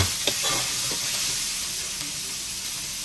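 Apple snails stir-fried in a hot pan give off a loud, continuous sizzle, with a few scraping stirs near the start before the hiss settles into an even fry.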